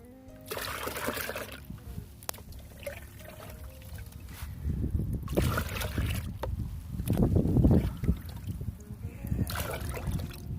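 Rainwater is poured into a garden container in several bursts, splashing and trickling up close, with quieter gaps and handling noise between pours.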